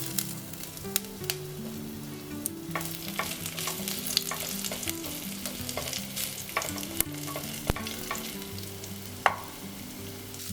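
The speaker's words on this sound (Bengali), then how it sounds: "এবারে একটু জিরে ফোড়ন দিয়ে দিচ্ছি। এবারে আদা দিচ্ছি।" Cumin seeds and ginger sizzle steadily in hot oil as they are stirred, with a continuous crackling fry and scattered sharp clicks of the spoon against the pan. No one speaks.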